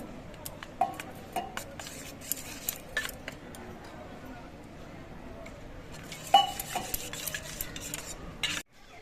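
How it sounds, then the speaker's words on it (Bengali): A spoon stirring turmeric and cumin powder into water in a bowl, giving soft repeated clinks and scrapes against the bowl at close range, with low kitchen background noise. "এবার জল দিয়ে এই মশলাটা গুলে রাখবো"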